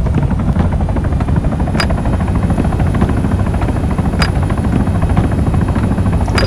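A helicopter in a video game, rotor chop and turbine whine droning steadily and loudly throughout at close range, with a few faint clicks and no talking.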